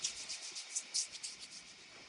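Hands rubbing briskly together in a quick brushing rhythm of about ten soft swishes, close and fairly faint.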